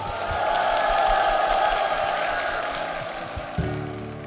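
A Korean Methodist church congregation gives a strong, steady round of applause for their church and senior pastor, a dense wash of clapping that swells, holds, then gradually tapers off.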